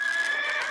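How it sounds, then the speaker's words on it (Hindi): A horse neighs with a short, high, wavering whinny that sounds close and clear, with faint hoof clops beneath. "वो घोड़ा आदरणीय राजगुरु जी के बाल खाना चाहता है।"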